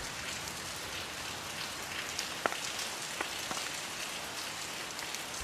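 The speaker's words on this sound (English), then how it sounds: "We're having coffee and watch the rain." Steady rain falls and patters on surfaces throughout, a dense, even hiss with a few sharper drops standing out, heard alone at a moderate distance.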